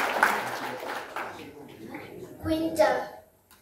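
People at a gathering clapping for a woman named Shiro, a short scattered round of applause mixed with someone talking and other voices, fading and then briefly returning.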